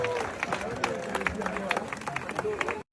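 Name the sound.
congregation clapping hands in church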